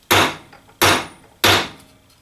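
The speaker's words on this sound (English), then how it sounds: "So here's where we're going to hit with the hammer, right on the face" A brass hammer strikes the threads of a steel bolt three times in an even rhythm, each blow a sharp, loud, close metallic knock with a short ringing decay.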